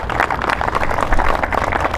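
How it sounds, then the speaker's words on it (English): An audience at a groundbreaking briefing applauds the governor, producing dense, steady clapping that stays close and loud for the whole stretch, with no voices over it. "Let's give him a round of applause."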